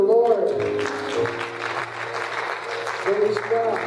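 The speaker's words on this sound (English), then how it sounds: "If you can, clap your hands to the Lord." Congregation clapping hands during a church service, a steady patter of many hands under sustained voices and music, moderately loud throughout.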